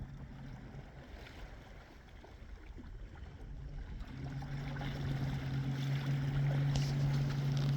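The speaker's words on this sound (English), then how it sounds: "a powerful 1100 watts, 3 horsepower equivalent direct drive motor designed for kayaks. It's mounted on my Perception kayak" A Torqeedo Ultralight electric outboard motor drives a Perception kayak across water, a faint steady hum that grows louder and more tonal partway through, over soft water wash.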